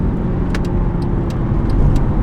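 A Mercedes-Benz C63 AMG 507 Edition with a naturally aspirated V8 drones at steady, loud volume throughout, a continuous low engine rumble with a few faint ticks above it and no talk.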